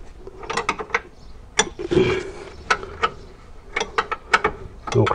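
A ratchet loosening a nut on an Alfa 166 lower control arm gives sharp, close clicks in uneven bursts, with a scraping rub of metal partway through.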